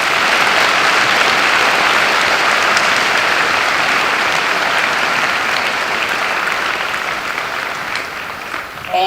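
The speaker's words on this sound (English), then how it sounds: "Let's give Attorney General Wilson another round of applause." Loud, sustained applause from a crowd at a high school Veterans Day ceremony, steady for nearly the whole stretch and easing slightly near the end.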